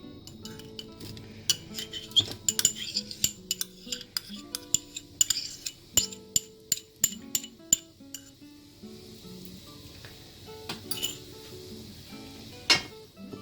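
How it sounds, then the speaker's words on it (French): Red onion being stirred into butter in a pot for a potato and preserved lemon soup, heard as a busy run of light metallic clinks and scrapes from utensil against pot, close and quiet, with faint sizzling beneath. "Et on mélange très bien pour que les morceaux d'oignon soient bien enrobés du beurre."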